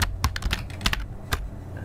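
Recorded keyboard typing samples played back by a Python script that imitates human typing: irregular bursts of sharp key clicks, some louder and some soft, spread unevenly across the stretch with no talk.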